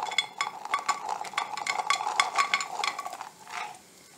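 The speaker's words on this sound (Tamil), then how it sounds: "ஒரு 7-8 கிஸ்மஸ் சேர்த்து இதை நல்லா நெய்யில் வறுத்து எடுத்து வைக்கலாம்" Raisins fry in ghee for broken wheat payasam, heard as a light crackling sizzle with rapid scraping stir strokes, close and fairly quiet, fading out near the end.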